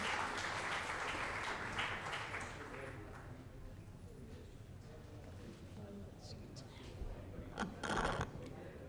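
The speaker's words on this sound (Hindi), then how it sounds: "Jyotima के लिए जोरदार तालियां" An open mic crowd at an awards event gives a contestant a burst of applause that is fairly loud at first and gradually thins out, with a few scattered claps later and a low murmur beneath.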